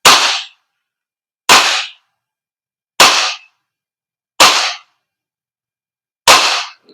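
An Umarex Glock 17 Gen 5 MOS airsoft pistol by VFC fires five sharp, loud, close shots at a target about 2.5 meters away, spaced roughly a second and a half apart with silence between them.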